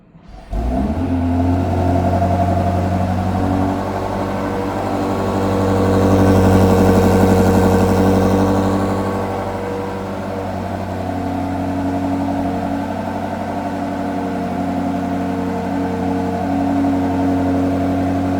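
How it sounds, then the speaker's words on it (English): A 2026 BMW X5 M60i V8 engine turns over on a remote cold start and settles into a steady, deep idle, rumbling loudly and evenly throughout with a slight swell in the middle. "let's do a little remote engine start, cold start"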